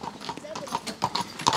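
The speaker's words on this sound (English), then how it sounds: "Horses." Horses clip-clop along a drivable path in the Gap of Dunloe, Ireland, their hooves sounding as a steady series of fairly close knocks, with people talking over them.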